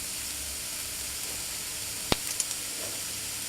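Vegetables frying in a pan for stir-fried rice over medium heat, a steady gentle hiss and sizzle with a sharp clack and a few small knocks near the end, no talking.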